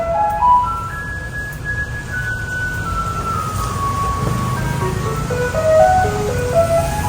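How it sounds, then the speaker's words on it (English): A garbage truck in Kaohsiung, Taiwan, plays its tinkling melody loudly and steadily, the tune stepping up and down over the rumble of street traffic, with no talking. "Highlight of the trip, the garbage truck."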